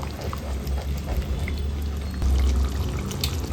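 Soaked field bean dal tipped into a pan of frying tomato-onion paste with ginger-garlic, giving a steady wet pouring and bubbling sizzle that swells slightly near the end, close and continuous.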